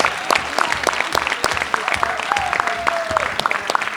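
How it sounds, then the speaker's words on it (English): Audience applause for guests at a Power Rangers Wild Force panel at a fan convention, lively sustained clapping with sharp individual claps standing out, and a faint voice briefly heard beneath it. "Let's give a good round of applause to our lovely guests."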